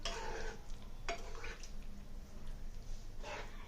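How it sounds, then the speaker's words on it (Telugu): Green tomato and dried fish curry stirred in a pot, with soft scraping and swishing strokes over a low bubbling simmer, a few brighter scrapes standing out, close and fairly quiet. "పోసి ఒకసారి తిప్పుదాం."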